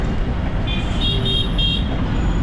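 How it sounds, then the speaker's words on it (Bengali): Kolkata roadway traffic with buses and large vehicles rumbles steadily nearby, while a few short horn toots sound in the middle of the low engine noise. "বাসগুলো আর বড় বড় গাড়িগুলোই কিন্তু কলকাতা রাস্তায় গোলায়"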